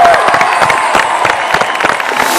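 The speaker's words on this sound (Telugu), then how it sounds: "బాయ్స్ అండ్ గర్ల్స్ ఇద్దరు ఒకసారి గట్టిగా క్లాప్స్ కొట్టండి" A studio crowd of boys and girls claps loudly together as part of a TV game show, making a dense, continuous burst of applause with some cheering mixed in.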